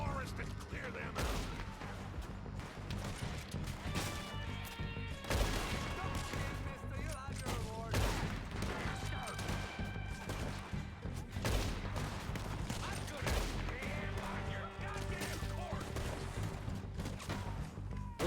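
Gunfire in the Red Dead Redemption video game, with repeated shots crackling through a dense, busy mix of game music and effects that continues steadily throughout.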